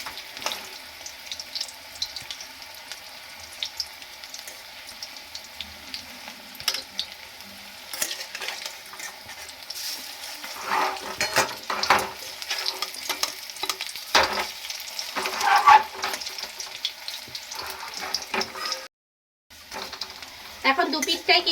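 Potatoes fry in hot oil and get flipped to the other side, a soft continuous sizzle with scattered clicks and scrapes of the spatula, fairly quiet, with a brief dropout near the end.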